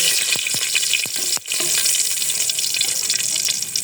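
Whole spices such as bay leaf, cardamom, cinnamon, dried chilli and five-spice mix sizzle and crackle steadily in hot oil in a pan, close up, with a few sharp pops early on.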